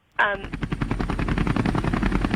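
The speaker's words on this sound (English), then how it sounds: "A trauma helicopter lands on scene at 7:12 a.m." A trauma helicopter lands at a road crash scene, its rotor beating in a loud, rapid, steady chop right after an abrupt onset, the engine whine droning underneath.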